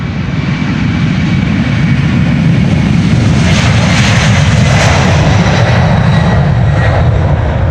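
A United Airlines Boeing 767-300 jet takes off at Amsterdam Schiphol, its engines a loud, steady roar that stays strong throughout, with a rising whine building partway through and no voices.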